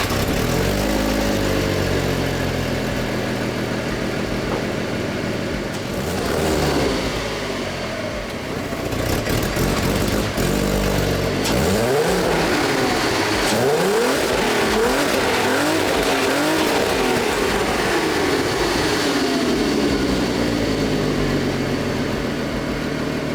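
A Honda engine fitted in a Volkswagen build runs and revs hard, a loud, close, continuous roar with rising and falling pitch sweeps and no talking.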